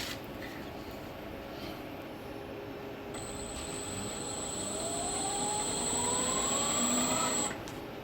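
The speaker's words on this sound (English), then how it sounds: "Put this in forward, and I was going to see if max speed will spin the magnet off." A Sieg mini lathe runs at maximum speed in forward with a magnet mounted, a steady mechanical whine and broadband hum that climbs gradually in pitch and loudness before cutting out abruptly near the end.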